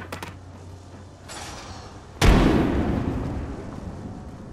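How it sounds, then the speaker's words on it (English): A frag grenade goes off in Apex Legends with one sudden, loud, close blast that rolls into a long, fading rumble, after a stretch of quieter background sound. "Frag out."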